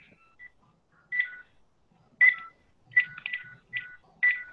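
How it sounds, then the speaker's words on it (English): A telephone gives a scattered series of short electronic beeps and tones as handsets are switched during a call, faint and separated by silent gaps, with no talking. "wait, I'm just shifting phones"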